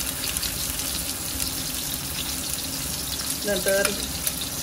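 Fresh green onions hit a hot pan for a Nagpuri toor-bean aamti, giving a continuous broadband sizzle with a brief clatter near the end, no speech over it.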